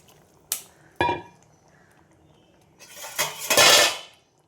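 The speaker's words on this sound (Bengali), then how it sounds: "এবার আমি ওই মশলা ধোয়া জলটা দিয়ে দেবো।" Spice-rinsing water poured into a hot pan of Bengali fish curry, a couple of sharp clinks of utensils followed by a loud, rising hiss and sizzle as the liquid hits the hot oil.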